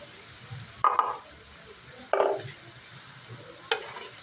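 Masala being stirred into frying potatoes in a pan: three distinct scraping strokes, each a short sharp burst, spaced over a few seconds above a faint sizzle, with no voices.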